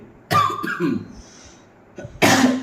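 A man coughs in two separate bursts, each close and loud, with a quiet pause between them.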